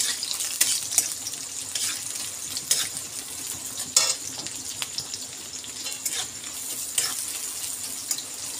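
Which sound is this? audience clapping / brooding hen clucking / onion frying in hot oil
onion frying in hot oil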